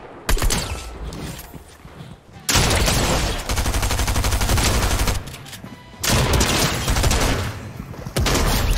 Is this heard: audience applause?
no